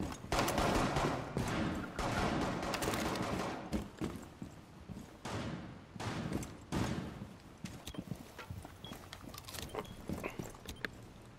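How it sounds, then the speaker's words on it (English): Rapid gunfire from Rainbow Six Siege fills the scene in dense, loud bursts and sustained volleys, easing into scattered shots and quieter gaps toward the end, with no talk over it. "Damn it, Cannon, you shot my dead body."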